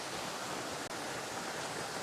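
A waterfall pouring over rocks, its steady broadband roar filling the clip without letup, with only a single momentary dropout near the middle.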